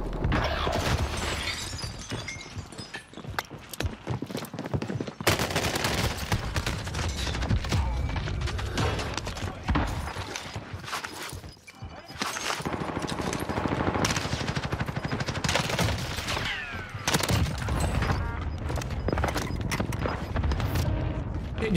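Rapid bursts of CX9 submachine gun fire in Call of Duty on Rebirth Island, loud and close, repeating in dense volleys with brief gaps, mixed with impacts and game effects.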